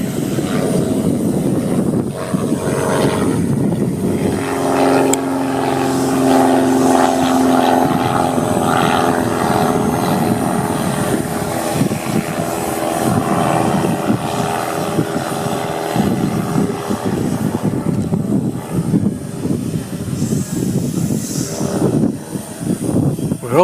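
A battery-powered model aircraft takes off on a windy day at the Sunshine Coast, near an airport. Its propeller buzz rises over constant wind rumble and roar, with a brief steady tone partway through.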